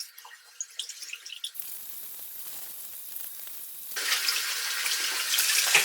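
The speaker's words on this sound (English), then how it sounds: "just run it for a short time under some cold water" Cold tap water runs over raw minced beef in a kitchen sink, a steady hiss and splatter that swells louder in the second half, with no talk.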